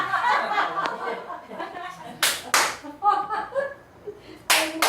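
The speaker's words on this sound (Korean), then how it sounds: "박수 소리가 좀 안 맞는 경우 있죠." Audience clapping at a laughter-therapy concert, uneven bursts of hand claps that fall out of sync, mixed with a speaking voice and some chuckling between the loud sharp claps.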